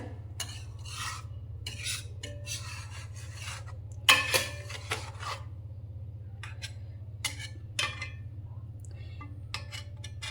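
A spoon or spatula scrapes and rubs against a pan while a khoya milk mixture for pistachio-almond kulfi is stirred, soft repeated rasping strokes over a low steady hum, with a few louder clinks.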